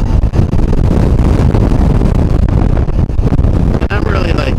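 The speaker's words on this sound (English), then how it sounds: "It is pretty windy today." Gusty outdoor wind buffeting a microphone, a rough, constant rumble with brief dips, heard during a motorcycle review.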